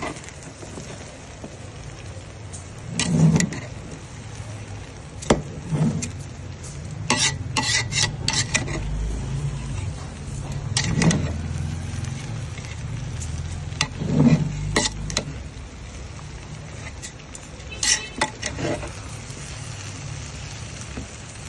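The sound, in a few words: mixing sugar into zarda rice by hand in pot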